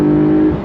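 Engine of a 2025 Porsche 911 Carrera T revving, heard from the inside as a loud, steady tonal drone held briefly before it fades slightly at the end.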